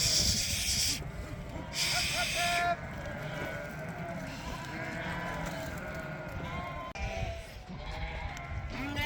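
Suffolk lambs bleat repeatedly on a farm, several overlapping calls rising and falling close by, with steady rustling and faint hiss underneath and a little indistinct talk.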